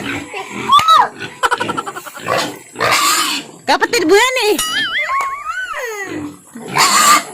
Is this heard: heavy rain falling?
no